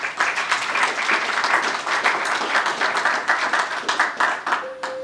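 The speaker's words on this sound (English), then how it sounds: "applaud yourselves today" Audience applause at a public awareness meeting in Pottstown, Pennsylvania, with dense, steady clapping lasting about five seconds before it breaks off and a faint tone sounds.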